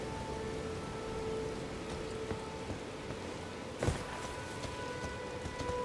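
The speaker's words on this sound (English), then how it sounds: "It's raining now." Steady rain hisses over the scene in the game Elden Ring, with a few sharper splashes and one brief louder crack partway through.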